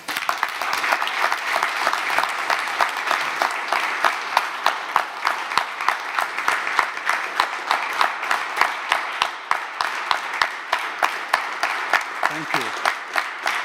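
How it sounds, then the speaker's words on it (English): Audience at a facade summit applauds the speakers with steady, dense clapping that lasts throughout, and a voice briefly speaks near the end. "let's give a thunderous round of applause for all our lovely speakers"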